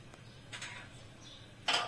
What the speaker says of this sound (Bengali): এখন আমি ঢাকনাটা সরিয়ে দেখব।